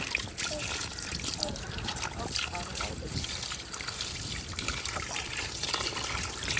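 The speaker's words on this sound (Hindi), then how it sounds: "इसके ऊपर पानी फेंको थोड़ा, ये बेल के ऊपर, ताकि घट्टा मिट्टी जो है ना वो उतर जाए" Water splashed from a hose over garden plants and flowering vines to rinse off caked soil, giving a continuous close trickling and spattering with someone talking over it.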